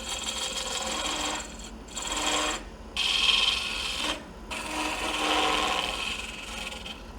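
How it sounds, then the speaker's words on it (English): A half-inch skew chisel making a peeling cut on a natural-edge wooden bowl spinning on a wood lathe, a close, harsh scraping rasp in bursts separated by short pauses. "I'm going to go ahead and grab my 1/2 inch skew because I can do a little bit more of a peeling cut with it right in here."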